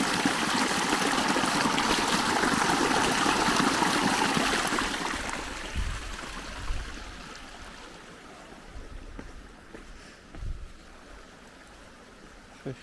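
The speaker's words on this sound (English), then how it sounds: "Just all the water's just eating away the road" Floodwater rushing through roadside ditches in rural France, a steady broad hiss of flowing water that is loud at first and then fades to a softer trickle, with occasional light knocks and no talking.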